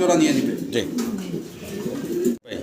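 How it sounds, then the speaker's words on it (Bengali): Pigeons, including a black cappuccino pair, cooing in low, throaty bursts close by, with people talking over them throughout. "দেখেন কি চমৎকার এটা কবুতর রানিং পেয়ার"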